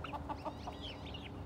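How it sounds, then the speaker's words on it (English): Silkie rooster clucking on a backyard farm, a few short close clucks in quick succession over a noisy outdoor background, with faint bird sounds around. "There's our other gorgeous silky rooster"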